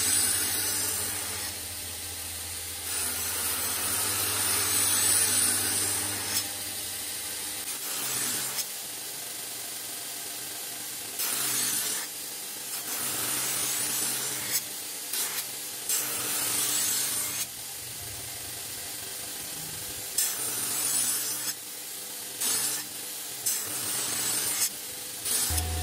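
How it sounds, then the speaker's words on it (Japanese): A belt grinder running a coarse 60-grit belt shapes the faces of a thin Japanese kitchen knife, giving a steady, close abrasive rasping hiss with a low motor hum and brief dips as the blade is lifted and pressed again. "60番のベルトで表面を作っていきます。"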